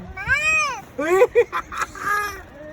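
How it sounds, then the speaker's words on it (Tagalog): Cats on a roof in Batangas fight with drawn-out, rising and falling yowls and sharp meowing cries, loud and close, in a few bursts lasting a couple of seconds. "May pusa sa bubong, nag-aaway."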